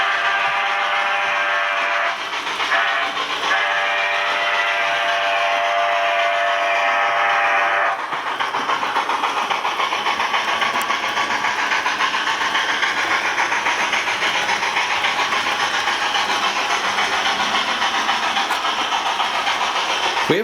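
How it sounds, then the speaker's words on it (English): A Rapido HO-scale model train, the Red Oak Cannonball, runs along its track pulled by a Royal Hudson locomotive, giving a steady close rolling rumble with a brief whistle-like tone early on before settling into continuous running noise. "My train, the Red Oak Cannonball,"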